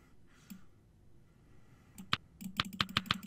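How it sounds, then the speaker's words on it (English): Computer keyboard typing and mouse clicking during an online Monopoly game, starting with a few sparse clicks, then a quick run of sharp, close keystrokes in an irregular rhythm near the end, with no talking. "I'm sorry if clicking gets annoying."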